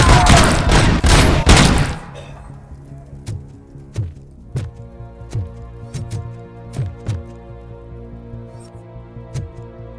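Gunfire in RoboCop: Rogue City, a dense loud burst at first, then single sharp shots spaced out in a loose rhythm, each one cracking clearly over a low background hum.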